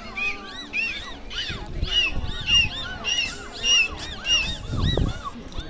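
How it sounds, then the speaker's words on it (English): Rapid, high squeaky whistles and chirps rise and fall in quick overlapping bursts, with a low rumbling wash underneath. "whales and dolphins also use that blowhole to talk, using a variety of sounds just like clicks, chirps, squeaks"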